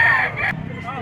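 A Kelso bloodline gamefowl rooster at a Padre Garcia, Batangas fowl market lets out a brief, close crow lasting about half a second, with voices murmuring around it.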